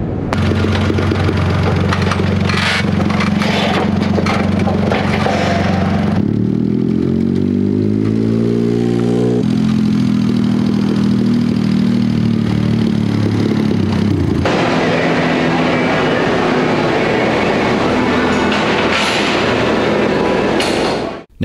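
A turbocharged go-kart engine roars loudly on a dyno, revving hard, easing to a rising, pitch-climbing drone through a power run, then surging back to a loud, raspy full-throttle blare, all close up with no talking.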